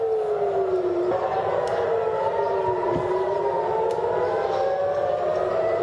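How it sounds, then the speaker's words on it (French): Air raid warning sirens wail across Jerusalem and Tel Aviv at dawn, several overlapping tones rising and falling slowly from a distance, steady and unbroken with no voices. "Ce matin à l'aube, Jérusalem et Tel Aviv se sont réveillés au son des sirènes d'alerte."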